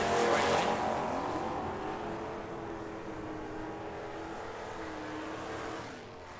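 A 1979 Mustang and a 1975 Camaro launch side by side at a drag strip, their engines a loud, sustained roar that peaks at the start and then holds steady while slowly fading.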